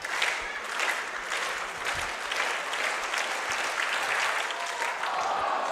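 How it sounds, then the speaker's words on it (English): Crowd noise and clapping from spectators at a junior athletics track championship heat, a steady, fairly loud wash of cheering and applause throughout. "You hear the crowd."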